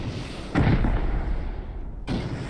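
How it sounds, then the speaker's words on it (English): Rocket blasts during a large raid in a video game: two heavy, booming explosions about one and a half seconds apart, the first followed by a lingering roar. "keep shooting rockets until you see it"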